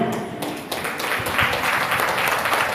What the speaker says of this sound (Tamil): அவங்க இல்லாவிட்டாலும் கைத்தட்டலாம், பெயருக்கு கைத்தட்டலாம்